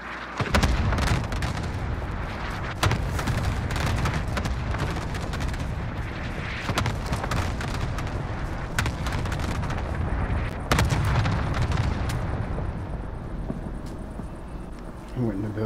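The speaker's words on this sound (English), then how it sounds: "Cluster strike away." A called-in cluster artillery strike in a video game sets off a dense run of sharp blasts and rumbling booms across the whole stretch, with loud bursts near 3, 7 and 11 seconds and voices talking over it.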